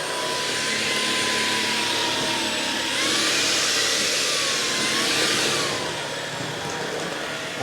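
A Tineco Pure One A50S Plus cordless vacuum cleaner runs with a steady high-pitched whine and airy rush, close by, its pitch rising briefly midway as the motor works harder, without any talk.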